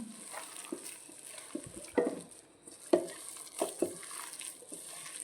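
Grated ginger and garlic are stirred together in a bowl, giving soft scraping and clinking strokes in an uneven rhythm over a faint background hiss, fairly quiet and close.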